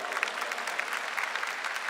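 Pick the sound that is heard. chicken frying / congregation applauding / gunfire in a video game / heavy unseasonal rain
congregation applauding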